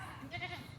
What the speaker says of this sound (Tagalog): Yan po, yan ang kambing.